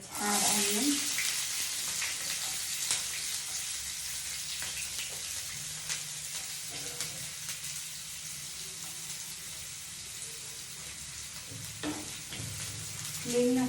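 Onions fry in hot oil after mustard seeds for a brinjal dish, giving a continuous close sizzle with stirring scrapes and occasional soft voices in the background.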